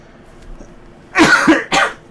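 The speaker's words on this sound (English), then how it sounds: "I'm battling a slight cough." A person coughs loudly and close by, two harsh bursts after a quiet start, with a brief throat-clearing quality and no speech.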